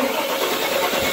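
1998 Chevy 5.7 Vortec V8 with leaking spider injectors, a short steady burst of engine noise as it starts and runs, close and loud.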